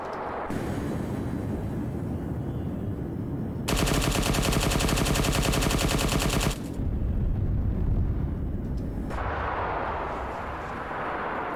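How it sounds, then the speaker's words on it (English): Low-energy cannons in an Arma Star Wars campaign fire a barrage: a rumbling, dense stretch of explosions with a rapid, loud burst of repeated shots in the middle before the booming resumes. "low energy cannons to try and do a barrage with that"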